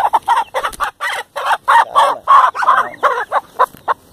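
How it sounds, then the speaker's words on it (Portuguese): A chicken clucks repeatedly in quick, loud bursts, the calls close and choppy with brief pauses between them. "Agora eu vou pôr essa galinha lá"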